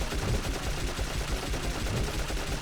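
Machine gun in Dark Cloud fires in a rapid, unbroken burst of dense crackling shots, loud and close for the whole stretch.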